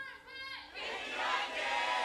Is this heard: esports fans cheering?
yes